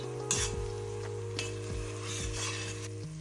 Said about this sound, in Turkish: Kavrulan soğanımıza salçamızı ilave ediyoruz.